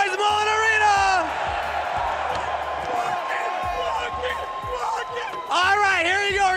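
Arena crowd at Mullen Arena during an esports watch party for the LCS Spring Finals, yelling and whooping loudly throughout, with a voice on a loudspeaker rising above the noise at the start and again near the end.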